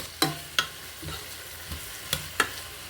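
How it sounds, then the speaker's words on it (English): Bacon, a bit more than half a pack, is stir-fried in a pan for a lasagna: a steady low sizzle with several sharp scraping clicks of a utensil against the pan at uneven intervals, close up and with no voices. "So we're gonna stir fry this for 2 minutes"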